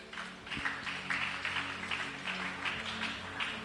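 Church congregation applauding to acclaim God during a sermon service, a steady continuous wash of many hands clapping at moderate distance, with a faint low hum underneath throughout.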